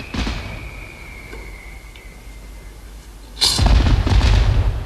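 Sharp booming bursts, a single pop early then a loud cluster of crackling explosions near the end, echoing like distant fireworks over a quiet background.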